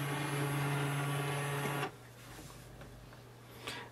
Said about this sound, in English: Now place a page in your printer and wait for the scanning to be done.